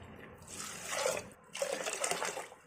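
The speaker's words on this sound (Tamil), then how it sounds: "இப்போ 2 டம்ளர் தண்ணி ஊற்றிக்கலாங்க" Water poured from a tumbler into a pressure cooker holding soaked dal, two steady splashing pours separated by a short pause, close and fairly soft.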